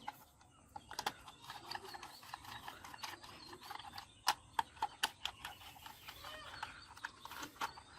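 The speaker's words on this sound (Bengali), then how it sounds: "স্ক্রু বসিয়ে দেওয়ার পরে আমরা কিন্তু স্ক্রু ড্রাইভার দিয়ে এটাকে টাইট করে ফেলবো।" A screwdriver clicks and ratchets as small screws are tightened into a plastic toy car, giving a series of short, sharp, close mechanical ticks in an irregular rhythm over a quiet background.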